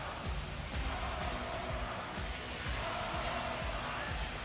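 Arena crowd at a WWE SmackDown wrestling show in Florida, a steady roar of many voices filling the hall, with scattered thuds and claps rising through the din.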